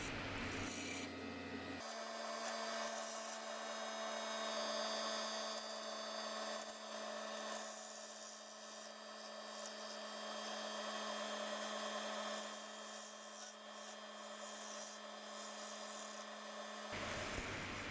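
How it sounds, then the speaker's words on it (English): A Carter and Son bowl gouge hollows a wooden bowl turned from a log on a lathe, giving a continuous loud rasping, rubbing cut over the steady hum of the spinning lathe, with a short break near the start. "using the Carter and Son bowl gouge to continue the hollowing process"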